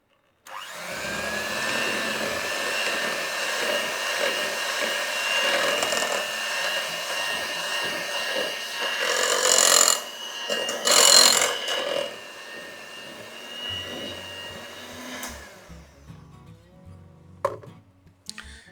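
Electric mixer whirring steadily through cookie dough of oats and coconut milk powder, close and loud, with a couple of louder bursts midway before it winds down and stops near the end, no one talking.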